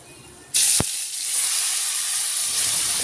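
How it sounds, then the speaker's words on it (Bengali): Cumin seeds and a broken dried red chili hit hot oil in a wok with a sudden loud burst of sizzle and a soft knock, then keep frying in a steady hiss. "জিরে আর লঙ্কাটা লাল লাল হয়ে যাচ্ছে, তেলটাও পুরো লাল লাল হয়ে গেছে"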